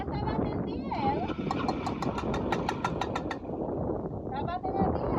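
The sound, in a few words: motorcycle engine making a knocking noise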